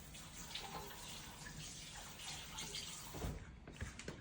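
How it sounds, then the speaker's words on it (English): Running tap water streams steadily as a hand is rinsed under the faucet in a kitchen sink, a continuous close splashing wash with a few louder splatters near the end. "Rinsing my hand off."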